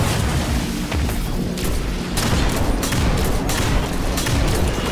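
Rocket launcher fire and heavy explosions in Destiny 2 during the Caretaker fight in the Vow of the Disciple raid, a loud, dense barrage of blasts and booms that continues without a break and with no talking.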